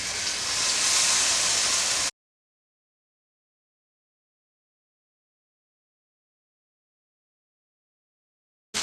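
Fish fillet sizzling skin-down in a very hot pan for Mexican fish tacos, a loud steady frying hiss close up for about two seconds before cutting to silence.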